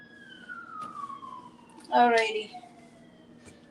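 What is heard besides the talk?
ambulance siren outside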